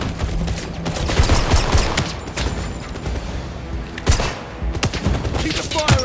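Sustained automatic gunfire rattles through a firefight in the 007 First Light video game at a black-market bazaar, a loud, dense barrage of rapid shots with heavier booms mixed in.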